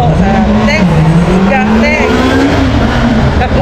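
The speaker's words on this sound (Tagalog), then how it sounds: "ang ingay ng motor" A loud motor vehicle engine roars close by and rises and falls in pitch as it revs, steady and continuous throughout, on a street in Spain.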